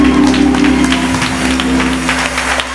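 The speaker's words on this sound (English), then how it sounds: "Can we just give the Lord a hand clap of praise?" A church congregation gives a hand clap of praise at a spring musical, dense applause from a crowd blending with a sustained organ or keyboard tone underneath, loud and continuous.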